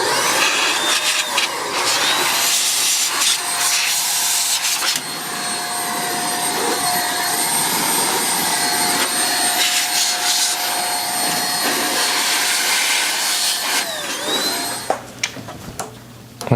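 Compressed air blasting dust out of a Power Mac G4 400MHz computer makes a loud, close, continuous roaring hiss with short bursts and pauses, ending in a few brief sharp sprays.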